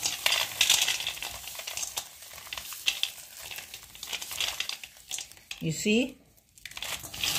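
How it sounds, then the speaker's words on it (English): Papery skins crinkle and rustle as roasted nuts are rubbed and peeled for a homemade nut pickle, a busy crackling texture heard close and mostly under a person talking. "You roast your nuts to make nuts pickle. Then the top cover, the peel all comes out."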